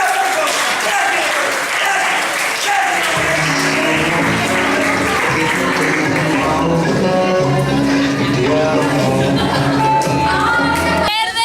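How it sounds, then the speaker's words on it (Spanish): An audience at a camp event claps in sustained applause that swells and continues for several seconds, with a person speaking loudly over the clapping throughout. "¡Un aplauso, por favor!"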